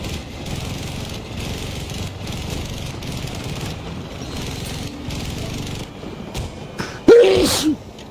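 A single sharp sneeze bursts out near the end, loud and close, over continuous rumbling gunfire and engine noise from a Battlefield 2042 match.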